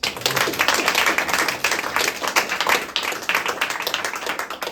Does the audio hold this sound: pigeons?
no